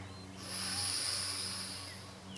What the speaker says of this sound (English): I'll breathe very loud the first time that we do this